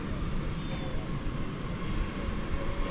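Airliner rolling for takeoff on runway 18 Left at DFW Airport, a steady broadband engine roar that holds level at moderate loudness throughout, with faint talk underneath.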